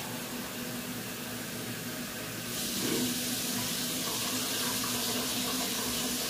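Water runs from a tap and is poured into a pot of stuffed aubergines for Gaziantep-style dolma, a steady hiss that grows louder and fuller partway through as the flow increases.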